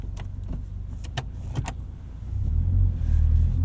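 A 2022 Subaru BRZ getting under way: a low, steady engine rumble that swells louder near the end, with a few sharp clicks and knocks early on, close by, with no talking.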